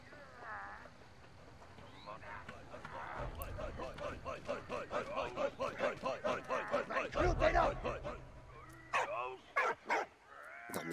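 Repeated dog barks and yips from the World War I video game Soldats Inconnus come in a quick rhythmic series, loud and close, with some whimpering and background game sounds.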